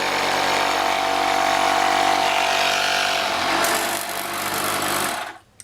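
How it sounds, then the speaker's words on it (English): A small portable air compressor inflates a car tire, a loud, steady buzzing rattle close by that runs almost the whole time before cutting off abruptly at the end. "So now that I've filled the tire up, I did stop the small air compressor."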